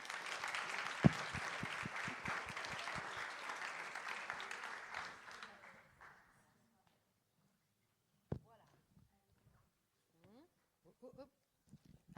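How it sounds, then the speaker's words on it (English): An audience at an H-Farm College keynote applauds the keynote speaker with dense, steady clapping for about six seconds, which then fades out and leaves a quiet room with brief scattered speech. "So a big applause to Claudia Parzani."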